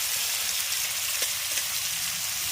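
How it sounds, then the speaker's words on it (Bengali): Ginger paste frying in a pan with chopped tomato and green chilli, a steady, even sizzle of moderate loudness running throughout with no talk. "এবার আদা বাটাটাকে আগে একটু ভেজে নেব তারপর আমি এর মধ্যে দিয়ে দেবো কুচিয়ে রাখা টমেটো আর দিয়ে দিচ্ছি কাঁচা লঙ্কা কুচি"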